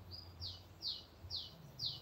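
Small birds near a house and roadside stall give four short, bright chirps at a steady pace. The calls are fairly faint over a low background rumble, and nobody is talking.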